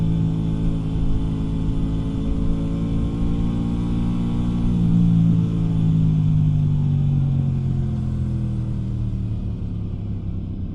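An Aprilia RS 660 motorcycle on its stock exhaust drones with a steady, muffled engine note, rising gently in pitch midway and then easing off as it cruises.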